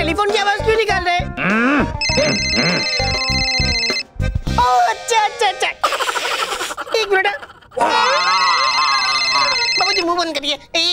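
A man imitates a telephone ringing with his voice in a comedy scene, making two long buzzy trilled bursts broken up by other vocal sounds and talk.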